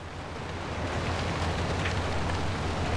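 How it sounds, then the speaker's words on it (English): Rain patters on the road in the video game Pacific Drive. It forms a steady, dense hiss of close, even drops throughout, with no voices. "Just relaxing, hearing pitter patter of the rain on the road."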